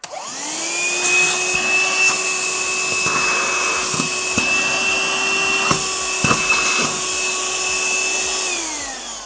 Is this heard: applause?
no